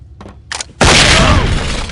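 Flashbang grenade detonating in the police tactical shooter SWAT 4, with two brief softer sounds followed by a sudden, loud, sustained blast that fills the rest of the moment.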